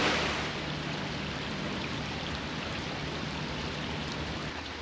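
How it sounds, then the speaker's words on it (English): Steady, dense rain patters on a boat moored in a marina in Pape'ete, Tahiti, a close, even hiss that lasts throughout with no voices. "Very, very rainy day here in Tahiti."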